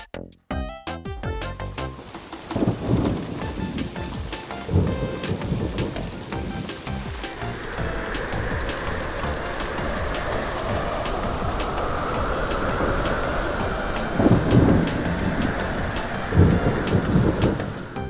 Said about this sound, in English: now it's time for the storm.